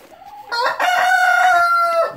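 A rooster crows in one long drawn-out call, with hens clucking around it, close and loud.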